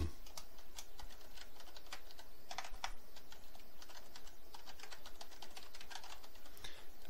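Quiet, steady tapping on a computer keyboard, with irregular fast keystrokes running continuously at a moderate distance while a name is typed into a web contact form.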